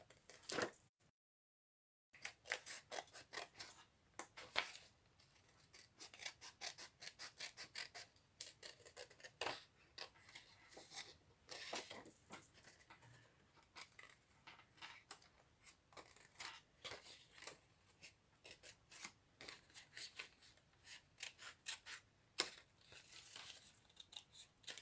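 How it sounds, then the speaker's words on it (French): Scissors cut paper for a tissue box craft in a long run of close, crisp snips and rustles. The bursts come at an uneven rhythm after a short silent gap near the start. "c'est le papier qui tourne et non les ciseaux"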